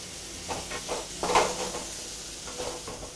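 Capsicum sautéing in a little oil in a pan, with a soft steady sizzle and a few stirring scrapes and clinks of a spoon against the pan, one louder stir near the middle.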